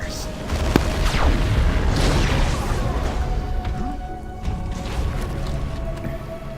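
Dense battlefield din from the Dawn of War 2: Retribution Ork campaign: continuous rumbling artillery booms and crackling gunfire overlapping into a loud, sustained wash with occasional sharper cracks.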